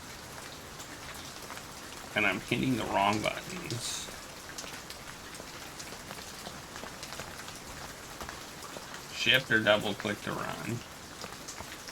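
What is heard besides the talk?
rain in a video game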